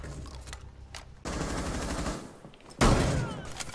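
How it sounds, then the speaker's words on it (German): Shotgun gunfire in Rainbow Six Siege, two loud sustained blasts of heavy firing noise, close and dense, with a sharp harsh onset on the second, no talk. "die Shotgun haut echt rein"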